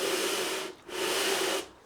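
Sandpaper rubs along the edge of a guitar fretboard in two long, steady strokes, each a close, even rasping hiss with a short pause between them.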